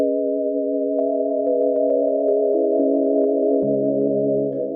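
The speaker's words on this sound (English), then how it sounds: "I made this, it's like an instrument that I use to create ambient synth tones" A sustained, layered ambient synth tone from a homemade instrument hums steadily with faint clicks, its lower pitch shifting downward near the end; no voices are heard.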